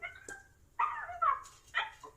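A dog gives a short bark, then several whimpering, whining yips in close succession, heard clearly and close with no talking over them.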